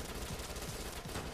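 Machine gun fire in the Dead Nation zombie shooter game, a faint, steady stream of rapid shots over a short burst with no talking.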